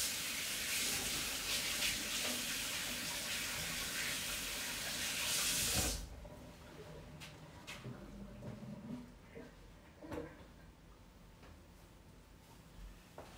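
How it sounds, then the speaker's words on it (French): Steady hiss of a running kitchen tap as fingers coated in breadcrumbs from making crispy tofu nuggets are rinsed, loud for six seconds, then cutting off to quieter room sounds with faint clicks and knocks. "je fais juste un petit saut hors caméra pour me rincer les doigts parce que je me suis un petit peu pané également"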